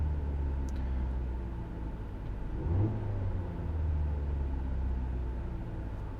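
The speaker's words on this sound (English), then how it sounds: "Go ahead and just give it some revs." A car engine revs up with the throttle blipped during a diagnostic scan tool check, a steady idle rumble swelling into a louder rising rev near the middle before settling back, close by with no talk.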